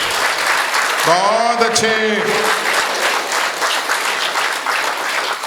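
Audience clapping after a comic poem recital at a Hindi poetry event, loud, steady applause filling the whole stretch while a voice speaks briefly over it near the start.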